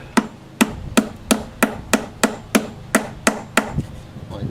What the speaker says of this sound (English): then we just tap it in with a hammer